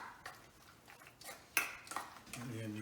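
A spoon stirs and scrapes through mac and cheese in a bowl, giving a few soft clinks and one sharper knock, then a brief faint tonal ring at the end.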